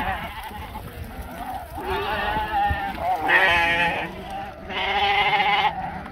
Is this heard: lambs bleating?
yes